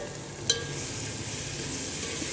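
Dry spice powders, including pav bhaji masala and coriander powder, are stirred into a masala frying in a pan for aloo matar pulao. A steady close sizzle runs throughout, broken once early by a sharp clack of the spoon.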